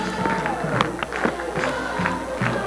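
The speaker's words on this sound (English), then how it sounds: "We've got a pretty good crowd." Spectators fill the stands at a high school football game between Oak Ridge and William Blount, a steady murmur of many voices with scattered shouts and claps, fairly close and continuous throughout.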